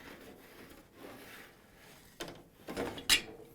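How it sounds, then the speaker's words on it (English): A lint filter slides back into its slot in a Whirlpool, KitchenAid or Maytag clothes dryer, a few soft scraping rubs followed by a sharper plastic clack near the end. "And now we can install the lint filter back."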